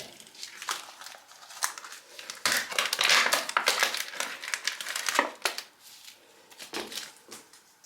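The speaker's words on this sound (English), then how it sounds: "I'm gonna arrange this where I want it and just cut off the excess here." A razor blade slices through excess painted decorative mesh on a wreath, giving close, steady crinkling and crunching with sharp rustling bursts and almost no talk.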